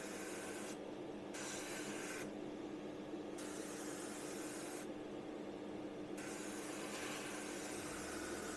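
Short bursts of spray priming on a Revell 1/48 PBY-5 Catalina model kit, several hissing passes separated by brief pauses over a steady background hum, moderately close.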